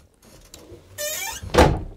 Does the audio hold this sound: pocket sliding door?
yes